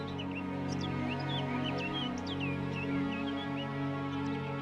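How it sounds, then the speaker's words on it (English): Two birds in an animated series chirp and call back and forth in short, high tweets over a steady low hum, faint and somewhat distant. "You hear those two birds?"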